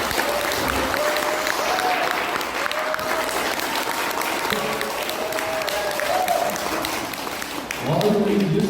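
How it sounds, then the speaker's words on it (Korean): An audience at a literary and cultural event in a youth culture venue claps loudly and steadily for several seconds, with a voice speaking over the end. "우리 마지막으로 장관님께 크게 박수 한번 주십시오"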